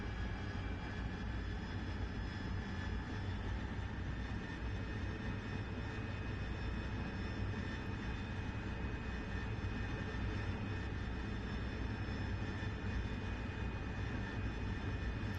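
An AV-8B Harrier jet in the DCS flight simulator during night operations makes a constant low engine roar with a faint high whine, steady and unbroken for the whole stretch, with no talk over it.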